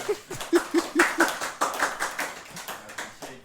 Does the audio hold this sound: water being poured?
no